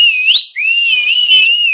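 A person gives a loud, close, sustained whistle for actor Vijay (Thalapathy), with the pitch sliding up and down through a shrill, piercing tone that breaks briefly near the start.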